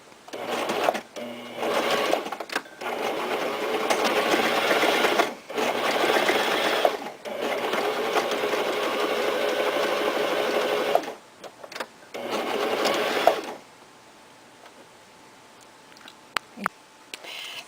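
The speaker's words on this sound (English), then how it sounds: "Now I'm stitching the sides, and I'm not stitching right at the edge" A sewing machine stitching the sides of a lacy canvas hanging, its needle running in a rapid mechanical whir through several long bursts with brief pauses between, close and clear, then falling quiet.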